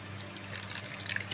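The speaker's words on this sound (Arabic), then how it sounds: "انا هحط طبعا هنا خل اهو" Vinegar pours briefly with a soft, faint liquid trickle, close but quiet, and no speech.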